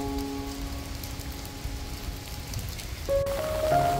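Steady rain pours on surfaces outdoors in an all-day downpour, a dense even hiss throughout, with a few tonal sounds entering near the end.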